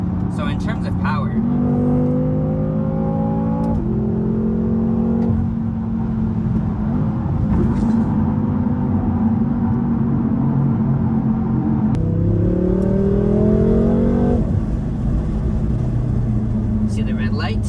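A BMW M6 Gran Coupe (F06) accelerating hard from inside the car, its engine rising in pitch through repeated gear changes in a loud, continuous roar.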